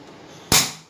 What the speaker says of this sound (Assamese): গেছ অন কৰি দিলোঁ